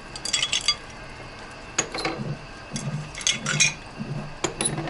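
Porcelain teaware clinks lightly during a Chinese tea ceremony at a tea market, with scattered soft taps and chinks of cups and vessels being handled at close range.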